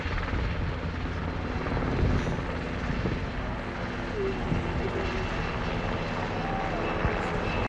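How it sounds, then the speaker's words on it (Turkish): A gendarmerie helicopter flies over mountainous terrain during a rescue, its rotor and engine making a continuous loud rumbling wash that stays steady throughout. "jandarma helikopteri havadan destek verdi"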